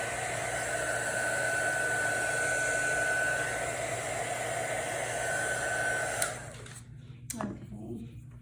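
A hair dryer used as a heat tool drying gesso in an art journal blows in a steady, close whooshing hum for about six seconds, then cuts off, leaving a few light handling sounds.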